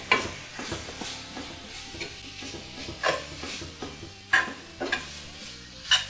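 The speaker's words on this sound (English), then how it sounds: "we're going to let this meat just cook down just a little bit" Meat cooking down in a pan with corn, peppers and garlic, giving a soft steady sizzle with occasional stirring scrapes and light clinks of a utensil against the pan, close and fairly quiet.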